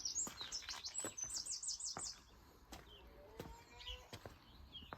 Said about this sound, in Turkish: Kuş seslerine bakın.